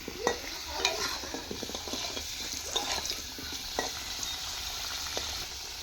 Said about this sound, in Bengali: আমি এখানে আলুগুলো লাল লাল করে ভেজে নিচ্ছি